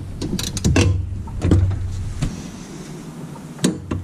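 A torque wrench tightens new blade bolts on a Honda lawnmower, with sharp metallic clicks and ratcheting clacks scattered over a low background hum, close and distinct, no talk.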